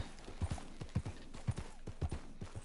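A horse's hooves clip-clop at a steady walking pace in Red Dead Redemption 2, with even, close hoof strikes repeating about twice a second and no talk.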